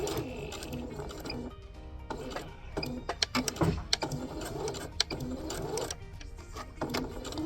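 Sewing machine stitching a zipper into fabric with the needle lowered, a steady close mechanical whir carried through the clip, broken by brief pauses and sharper clicks as the work is pushed along.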